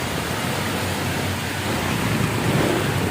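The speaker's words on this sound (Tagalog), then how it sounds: "Kahapon pa yung ulan na to guys. Walang tigil." Heavy rain falls in Manila as a dense, steady roar of hiss that holds unbroken throughout, fairly loud, with no voices.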